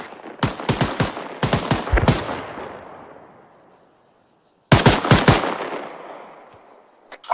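Machine gun fire in the Arma 3 video game, two sets of rapid, loud bursts with echoing tails that fade between them, followed by a single sharp shot at the end.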